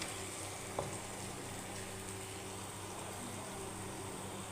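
Jalebi batter swirled into hot oil, frying with a steady, soft sizzle and fine crackle throughout, fairly quiet, with one brief tap near the start and no voices.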